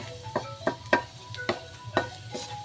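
Garlic sautéing in cooking oil in a pan, a soft sizzle broken by several clinking stirs of a utensil against the pan at an uneven pace, close and moderately quiet.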